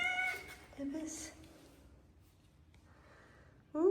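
A cat gives a few short, thin meows at close range amid household sounds, with people talking nearby.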